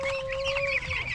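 Fifteen-day-old broiler chickens cluck and cheep up close, several birds overlapping in a short busy burst, with a steady electrical hum underneath.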